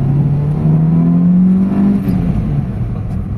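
Toyota GLI sedan engine in Aurora, Baler, suffering low power and an idle-up fault, revved hard toward 6,000 RPM, a loud close droning roar whose pitch climbs steadily and then eases off, with no talking.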